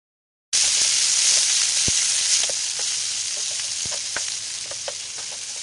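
Green chillies and frozen peas sizzle steadily in a hot pan for samosa filling, a continuous close frying hiss with small pops and crackles, no voices.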